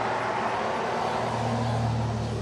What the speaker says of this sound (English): that diesel truck just went by a minute ago, the other way